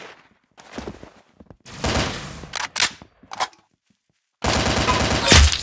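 Rapid gunfire in the Roblox game Arsenal, several separate bursts of shots with short silent gaps between them, ending in a long sustained volley, close and loud.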